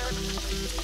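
Oil and butter sizzling steadily in a pan before cooking crab, a brief dense crackle heard up close with no talking.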